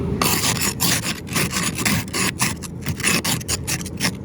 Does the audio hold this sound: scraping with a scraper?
yes